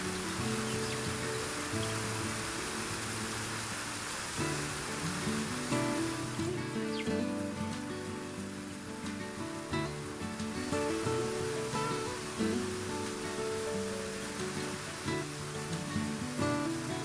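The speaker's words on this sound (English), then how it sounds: "Look at that waterfall." Binderee Falls waterfall seen after a hike up to Craigs Hut, a constant broad rush of falling water that holds steady and fairly loud throughout with no voices.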